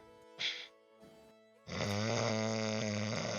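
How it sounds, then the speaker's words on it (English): A loud snore, heard after a few brief breathy sounds, swells into a sustained, rough, buzzing drone that holds steady to the end. "You hear him snoring from across town."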